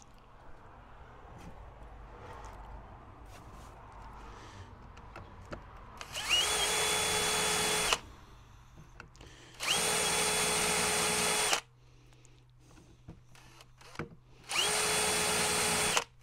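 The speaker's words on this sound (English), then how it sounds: "I'm going to use my countersink tool just to open these up a little bit" A powered countersink tool bites into metal holes on a 1/6 scale Armortek M26 Pershing RC tank hull in three loud, close bursts of whirring, each a couple of seconds long, separated by quieter stretches.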